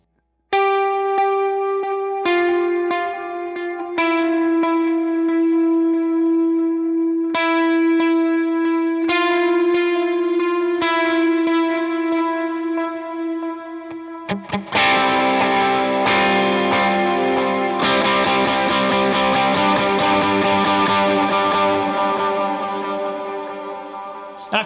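An electric guitar run through effects plays a part of a song: clean ringing sustained notes with echo and chorus, then a loud distorted, full strummed section about midway, continuous and close, no talk.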